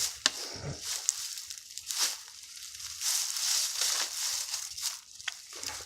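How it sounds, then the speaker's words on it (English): A campfire started with gasoline burns close by, giving off soft crackles, sharp pops and snapping twigs over a low, breathy hiss; no one talks. "That fire burning now."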